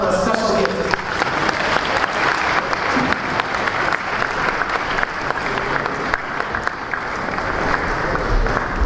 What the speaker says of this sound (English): Please give a round of applause to Moshe Zalman Olive.